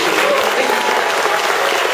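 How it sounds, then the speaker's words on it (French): Loud, dense applause fills a hall as a crowd at a French local election victory gathering in Neuilly claps hard and without pause. "je voudrais vraiment qu'on les applaudisse très fort"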